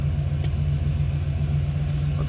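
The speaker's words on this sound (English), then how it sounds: "Sounds as you'd expect. Nothing over the top, just nice sounding Olds 350." A 1972 Oldsmobile Cutlass Supreme with its 350 V8 idles steadily close by, a smooth, even low rumble with no revving and no talk.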